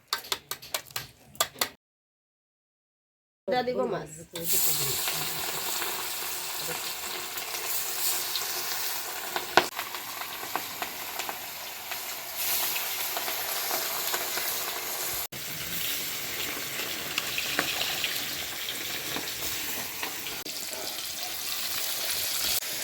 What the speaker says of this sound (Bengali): সম্পূর্ণ মাছ বাজা হয়ে গেছে